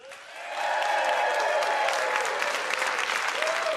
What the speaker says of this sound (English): We need one more big round of applause for Mr.